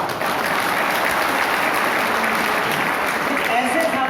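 An audience rises from their seats and applauds at a live event, a dense, steady wash of clapping that stays loud and even for about four seconds.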